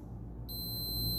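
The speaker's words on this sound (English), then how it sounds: "there's a beep on our multimeter" A steady high-pitched multimeter continuity beep, sounded while testing a MOSFET, starts abruptly and holds, clear over a low background hum.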